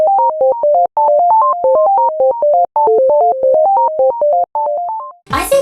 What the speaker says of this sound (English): The pure sine wave tone of the melody evokes a futuristic and space-like atmosphere.